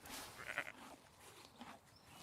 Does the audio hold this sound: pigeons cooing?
no